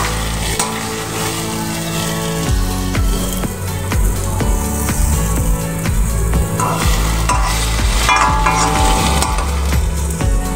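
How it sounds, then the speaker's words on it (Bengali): Potatoes with spices stirred and fried in a wok, a steady loud sizzle broken by repeated scraping strokes of the spatula against the pan, with no talk over it. "আলুর সঙ্গে খুব সুন্দর মশলাটা কষিয়ে নিয়েছি। বুঝতেই পারছো কড়াই থেকে ছেড়ে যাচ্ছে।"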